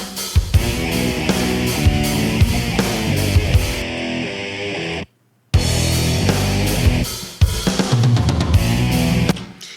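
Full band music playing with a lush, washed-out reverb tail, briefly cutting to silence midway before resuming loudly.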